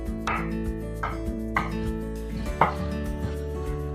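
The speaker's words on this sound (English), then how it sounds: "I will first cut the parsnip and the carrots." A knife chops parsnip and carrots on a cutting board, giving a few sharp, separate strikes spaced unevenly over a steady tonal hum in the background.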